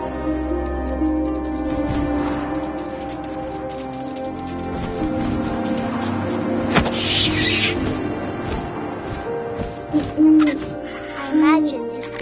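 Owl hooting from the video game What Remains of Edith Finch, a clear call around mid-clip set over a steady layered ambient game soundscape with wind-like texture and occasional brighter sounds near the end.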